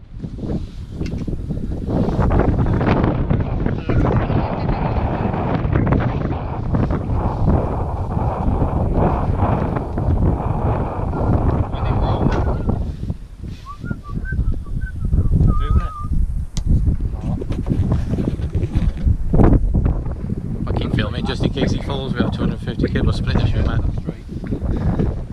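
Strong wind blows outdoors at an overland vehicle show, producing a loud, continuous rumbling buffet across the microphone with brief lulls, while people talk underneath.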